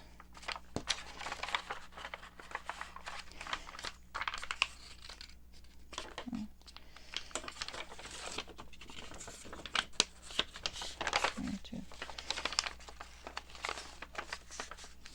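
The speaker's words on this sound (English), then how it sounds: "This one will fold over now that the glue is dry." Paper journal pages being folded over and bent after the glue has dried, giving soft crinkling and scratchy rustles in bursts throughout, close and fairly quiet with no talking.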